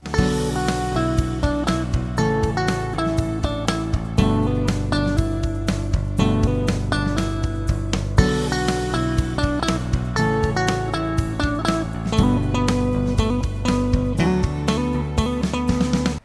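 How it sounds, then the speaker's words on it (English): A busy guitar solo line of quick notes with hammer-ons over a steady backing with bass and drums, lively and continuous, in a repeating four-bar pattern. "Adding some hammer-ons into a made-up solo could sound something like this."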